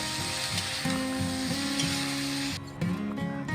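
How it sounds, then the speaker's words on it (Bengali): Yardlong beans and potatoes with turmeric sizzle steadily in a pan, a dense continuous frying hiss with occasional stirring scrapes, fairly close and alone. "এবার সব কিছু খুব ভালো করে নেড়ে নিয়ে দুই মিনিটের মতো জাল করে নেব"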